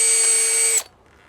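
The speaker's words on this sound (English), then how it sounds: "So I'm going to now drill in here." A power drill with a 1/8 inch bit whines at a high, steady pitch while boring into a vinyl fence, then winds down and stops abruptly.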